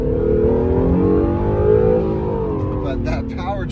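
Acura NSX hybrid powertrain revving high, a strong rising engine note that holds and then eases off, followed by brief voice-like fragments near the end.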